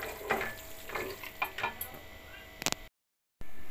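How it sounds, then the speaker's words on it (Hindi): Sindhi saag greens are fried and stirred in a pan, with quiet sizzling and scraping strokes that break off into a short silence before the frying resumes. "अब 5 मिनट के लिए इसको भूनेंगे।"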